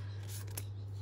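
A package top is trimmed open with scissors in a quiet room over a steady low hum, giving a brief snip or two.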